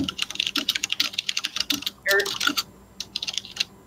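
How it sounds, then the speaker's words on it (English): Loud computer keyboard typing in rapid, irregular bursts of sharp clicks, close up, with a brief pause near the end before a final flurry; no talking. "your typing is loud"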